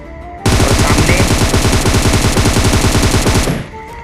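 Sustained automatic gunfire from an M4 rifle in PUBG, a dense rapid burst of shots running about three seconds, loud and close, starting and stopping abruptly with no talking.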